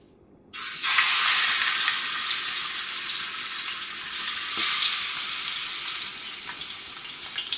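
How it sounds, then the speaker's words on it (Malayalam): Chicken pieces laid into hot oil in a large wide pan for chicken manthi set off a sudden loud sizzle that stays steady and close, easing slightly toward the end. "ഇനി നമുക്കിതിലേക്ക് ഓരോ പീസ് ചിക്കൻ വെച്ച് കൊടുക്കാം"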